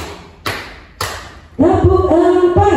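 A group of women in a school training session clapping hands together in a counted pattern, two sharp claps followed by a louder, sustained stretch of rhythmic clapping.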